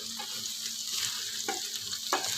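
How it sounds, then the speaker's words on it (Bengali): Chopped onion frying in a pan of hot oil for a Bengali bharta, a steady, close, bright sizzle with a couple of brief louder crackles and no voices. "এরপরে দেখুন একটুখানি পেঁয়াজ ভেজে নিচ্ছি"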